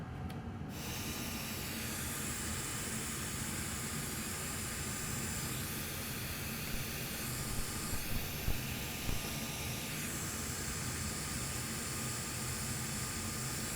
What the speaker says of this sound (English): And now I'm gonna set my hot air station at max temperature and max airspeed.